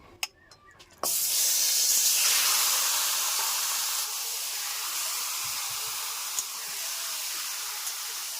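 After a few faint clicks, a loud sudden hiss of goat meat hitting hot mustard oil in a wok erupts and settles into a steady, crackling sizzle that continues throughout.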